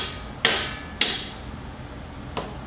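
Three sharp hammer blows on a wheelchair frame being narrowed, two close together then one after a pause, each a bright metallic ring fading quickly.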